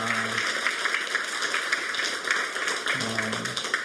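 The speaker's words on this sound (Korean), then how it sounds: "우리 찬양대를 향해 수고하신 찬양대에게 격려의 박수를 주시면 감사하겠습니다." A church congregation at a Sunday Thanksgiving service claps for the choir. The sustained, dense clapping fills the room evenly for several seconds, and a brief voice rises at the start and near the end.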